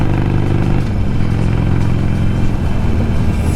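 A large group of Harley-Davidson motorcycles riding together on a country road, a loud, continuous low engine rumble close by, with no talk.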